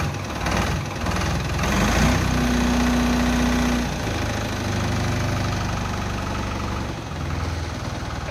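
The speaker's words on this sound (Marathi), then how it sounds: "ट्रॅक्टरचे अशा प्रकारे फायरिंग आहे मित्रांनो" Close, loud idle of a two-cylinder engine on a Captain 280 4WD tractor, a steady knocking chug with a brief whining tone partway through, running alone without voices.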